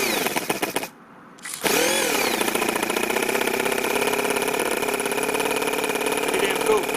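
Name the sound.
four-cylinder four-stroke nitro RC engine running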